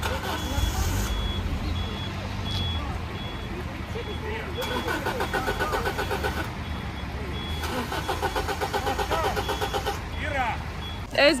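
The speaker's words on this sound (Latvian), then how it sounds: "autobuss, kuram ir pa šauru, lai iegrieztos autobuss, grib braukt atpakaļ ārā, atpakaļ gaitā" A bus backs out of a narrow street with its engine running and a steady, repeating reversing beep, while nearby traffic rumbles and people talk close by.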